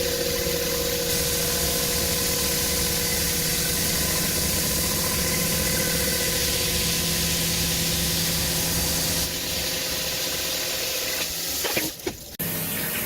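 A CNC milling machine cuts a hydro handbrake bracket, giving a steady, loud whir with hissing coolant spray throughout and a brief clatter near the end.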